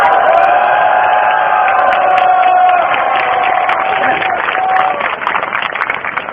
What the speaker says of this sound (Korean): 다시 한번 응원과 격려의 함성과 박수 한번 다시 보내주시죠